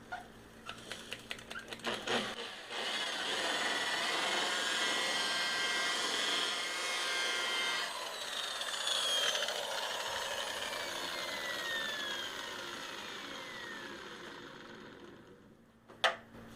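A car polisher fitted with a soft polishing pad working over clear coat, a continuous close mechanical whir with shifting pitch, opening with a few clicks and handling knocks and ending in a brief thump.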